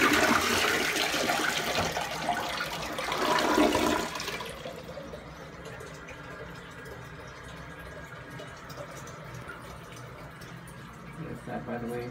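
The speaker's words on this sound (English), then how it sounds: "And now I'm gonna flush big." A toilet with a sink-topped cistern flushes loudly up close in a rushing burst of water for about four seconds, then settles into a quieter trickle as the tank refills.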